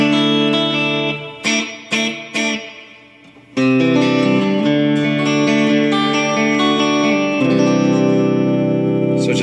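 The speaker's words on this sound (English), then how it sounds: "Reverb on Hall of Glory setting." Electric guitar chords through a JHS Alpine reverb pedal on its Hall of Glory setting, a few short stabs fading into a wash, then sustained loud strums with long lingering tails.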